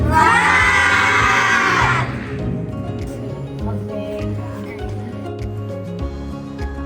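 Schoolchildren lined up at an Indonesian school during a PGRI anniversary competition event shout a loud, high cheer together for about two seconds, then the crowd noise falls to a lower murmur of voices and movement.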